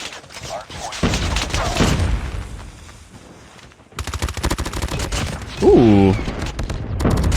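P90/CBR4 hip-fire in COD Mobile: rapid bursts of close automatic gunfire ring out repeatedly, broken by a brief lull, while a player reacts with a short exclamation.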